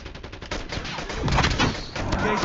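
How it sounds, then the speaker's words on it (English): Pistol fire in a shooter video game, rapid repeated shots piling into a dense, fairly loud burst of gunfire, with no voices over it. "We got dudes shooting pistols."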